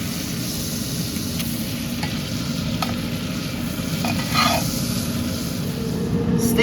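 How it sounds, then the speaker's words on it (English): Steak searing in a hot pan while being basted with butter, a loud continuous sizzle with crackly spits and a few sharp spoon clinks against the pan, close up, no talking. "Look at this bad boy, just basted. That's a butter bath right here."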